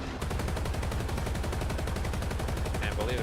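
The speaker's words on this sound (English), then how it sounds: "This one also comes with twin machine guns mounted to the front." Twin front-mounted machine guns on a Russian BTR ZD amphibious vehicle in War Thunder fire a rapid, steady stream of close, loud shots, with a faint voice briefly over the end.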